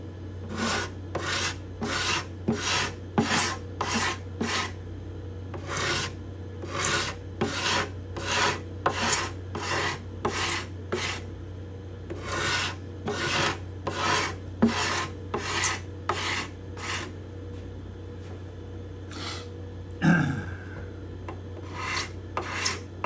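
A hand scraper works the bindings and purflings along the soft cedar top of a Desmond guitar, giving crisp, rasping strokes in quick, even bursts with brief pauses between sets, close and alone with no talk.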